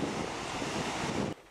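Wind gusts and surf on the beach at Thunder Cove, Darnley, Prince Edward Island on a windy, rainy day make a loud, steady rushing wash that cuts off abruptly near the end.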